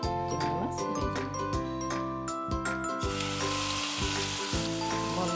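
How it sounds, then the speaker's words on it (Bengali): Prawns seasoned with salt and turmeric fry in a pan with a steady, loud sizzle, punctuated by repeated metallic clinks of a spatula stirring against the pan, with no talking. "লবণ হলুদ দিয়ে চিংড়ি মাছ ভেজে নেব।"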